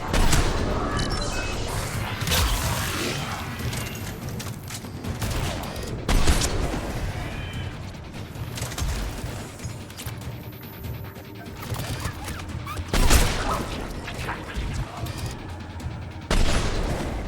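Rapid game gunfire from a Mass Effect 3 firefight rattles almost without pause, with sharp bursts and heavy impacts recurring every few seconds over a loud, busy battle din.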